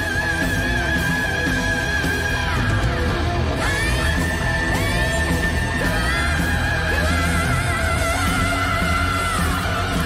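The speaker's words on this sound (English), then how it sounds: "Now, I would definitely call this a scream" A singer lets out a sustained, powerful musical scream, held strongly and bending in pitch over a loud full band playing underneath.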